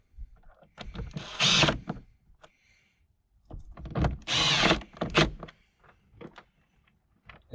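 Impact wrench snugging oil filter housing bolts on a Mercedes Sprinter van, two fairly quiet whirring bursts with softer clicks and handling noises between them, close up.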